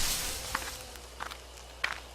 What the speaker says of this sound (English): there are footsteps close by,